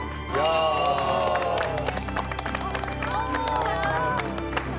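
A crowd applauds and cheers as a North Korean defector family arrives in South Korea, steady clapping mixed with voices, hubbub and music throughout.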